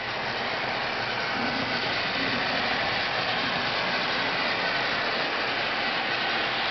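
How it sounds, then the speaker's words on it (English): Steady rumbling hum of model trains running on track, continuous and even in level, with no talking. "Passenger and freight trains meeting each other"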